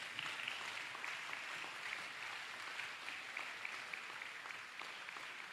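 A church congregation at an evangelisation service applauds steadily: a faint, continuous patter of many clapping hands with no break, heard from a distance.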